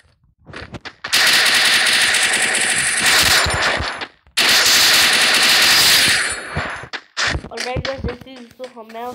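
Rapid sustained bursts of UMP submachine gun fire in the Free Fire video game, two long loud volleys separated by a brief pause, followed by scattered shorter shots and game effects.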